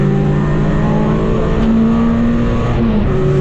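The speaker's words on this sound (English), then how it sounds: "It's a little Clio, it sounds absolutely awesome." A little Renault Clio race car on track at Navarra Circuit during a trackday, its raw engine loud and close from inside the cabin, holding a steady drone with slight pitch shifts as revs change.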